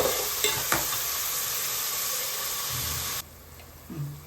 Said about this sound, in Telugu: ఇప్పుడు ఉల్లిపాయలు బాగా వేగాలండి